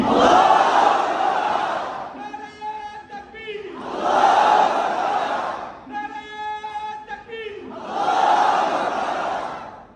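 At a mosque opening gathering, a crowd roars its reply to the Nara-e-Takbir slogan three times in unison, each loud surge of voices separated by a single man's chanted call.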